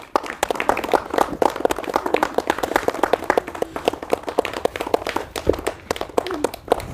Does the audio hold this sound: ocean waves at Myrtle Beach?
no